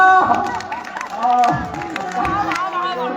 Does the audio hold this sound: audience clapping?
yes